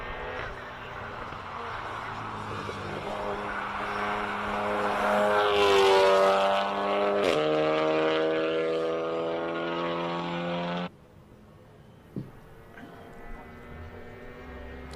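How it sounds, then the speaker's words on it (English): Volkswagen Golf 7R at the Simola hillclimb: a loud, steady engine and exhaust drone that swells and shifts pitch, then cuts off abruptly, leaving a quieter background with a few faint pops. "every person who's got a Golf just has funny noises coming out of the exhausts"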